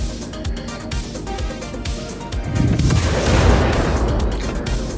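Missile launches from a spaceship in Star Citizen, a run of sharp booming blasts and gunfire-like bursts that swell into a louder, dense roar over the second half.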